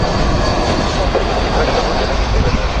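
A jet airliner touches down long on the runway, heard as a steady, loud broadband roar of engines and rolling noise with no distinct breaks.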